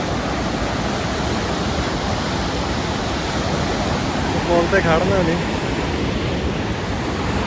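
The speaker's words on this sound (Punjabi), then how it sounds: "ਹੁਣ ਤੁਹਾਨੂੰ ਦਿਖਾਉਣਾ ਕਿੱਥੇ ਇਕੱਠੀਆਂ ਹੁੰਦੀਆਂ ਨਦੀਆਂ" Two cold mountain rivers meet on the trek from Govindghat toward Hemkund Sahib, making a loud, constant rushing roar throughout, heard close from a bridge, with a brief spoken voice over it.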